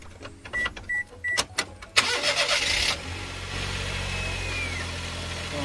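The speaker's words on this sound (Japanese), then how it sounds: "最後にエンジンをかけてエンジンルームを乾かすみたいなんで、ちょっとね怖いんですけどエンジンをかけてみたいと思います" A Daihatsu Hijet Deck Van with 177,000 km on it, just after its engine bay was washed: a few chime-like beeps, a brief starter crank, then the engine catches and settles into a steady close idle.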